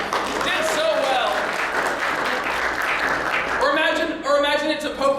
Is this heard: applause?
yes